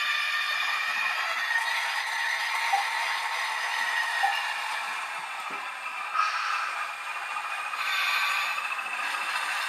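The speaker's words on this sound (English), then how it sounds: "start up these two particular trains" Two Bachmann model trains run on a layout track, giving a continuous thin metallic rattle and rolling clatter that holds steady throughout, with no voices.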